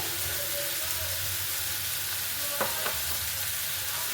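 Tomatoes cook with salt in a pan, giving off a steady, close sizzle as they fry, with a couple of brief scraping stirs near the end.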